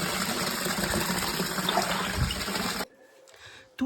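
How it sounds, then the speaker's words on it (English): Water runs in a steady, close gush for nearly three seconds, then cuts off into near silence with a faint clatter. "Водичка."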